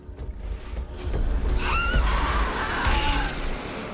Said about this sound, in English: Why is she screaming, though? She don't like the light?